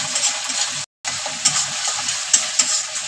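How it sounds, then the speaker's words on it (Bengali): Spices with a little sugar and Kashmiri chili powder stir-frying in a pan for a vegetarian potato curry, a steady close sizzle with scraping stirs, broken by a short silent gap near the start. "আর দিব হচ্ছে এই যে লঙ্কা, কাশ্মীরি লঙ্কার গুঁড়ো দিয়ে দিলাম। এগুলো কষিয়ে নেবো ভালো করে।"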